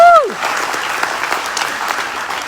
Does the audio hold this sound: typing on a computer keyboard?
no